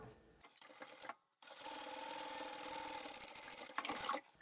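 A sewing machine back stitches a scrap-fabric bag in close, rapid bursts, a short run, a brief stop, then a longer steady whir that surges near the end.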